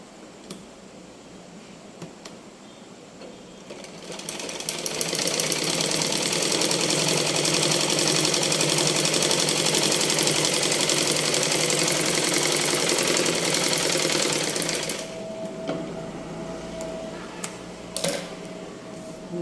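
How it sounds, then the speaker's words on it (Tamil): A sewing machine stitches a blouse front in one continuous whirring run of about ten seconds, loud and close, with quieter handling sounds before and after. "இடையில ஒரு தையல் போட்டு"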